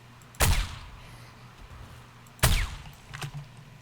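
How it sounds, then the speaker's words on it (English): Two sharp gunshots in 7 Days To Die, about two seconds apart, each cracking loud and close with a short decaying tail, followed by a softer third report. "Now that's some good shooting."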